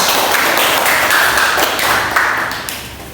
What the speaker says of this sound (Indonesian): tepuk tangan untuk Tika dulu